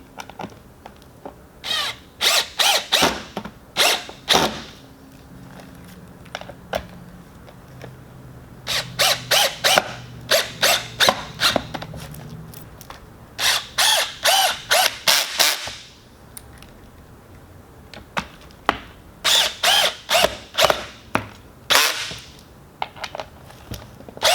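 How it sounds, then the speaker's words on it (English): A power driver runs four kit screws into a Sony speaker pod for a 2019–2020 Harley-Davidson Electra Glide Standard, giving loud, close bursts of rapid clicking and whirring in several separate runs with short pauses between them. "Take the 4 screws that are included in the kit and screw them into your speaker pod."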